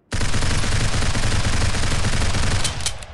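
Scoped rifle in the shooter game Critical Ops fired without aiming down the scope: a loud, close, unbroken stream of rapid shots lasting about three seconds, then cutting off.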